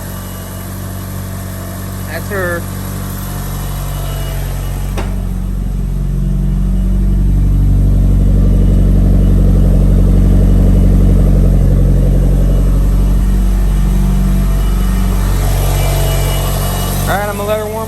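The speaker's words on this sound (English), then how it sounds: "It sounds like metal rubbing on metal, but as soon as you give her some gas, she closes." Mitsubishi Evo 9 engine idling with a metallic, rubbing rasp that swells into a louder sustained rev through the middle before settling again, with someone talking briefly at the start and end.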